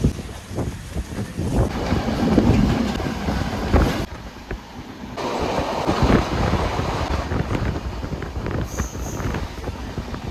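A train at Murudeshwar railway station, bound for Madgaon in Goa, gives a loud, continuous rumbling roar with heavy wind buffeting and surging passes of noise.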